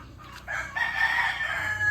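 A rooster crows once, close and loud, its drawn-out call rising and holding for over a second.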